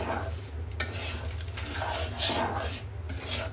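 Semolina being dry-roasted and stirred in a pan, a continuous close, gritty scraping and rustling as the spatula sweeps through the dry grains, with brief pauses between strokes.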